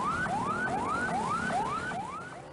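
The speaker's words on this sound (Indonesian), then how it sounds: "ambulans dengan sirene yang menyala juga terpaksa ikut terjebak banjir" An ambulance siren wails in a steady rising-and-dropping sweep, repeating about every 0.4 seconds, loud and close over constant traffic rumble on a flooded street with water 40 to 60 cm deep.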